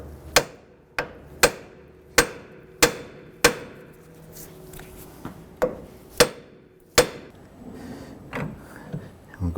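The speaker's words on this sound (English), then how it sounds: "Using a hammer, we're going to go ahead and strike the side of the knuckle to release this tie rod end." Hammer striking the side of a steel steering knuckle on a 2005-2007 Jeep Liberty to free a tie rod end, about ten sharp metallic blows in a fairly steady rhythm, close and loud, with a few softer knocks after.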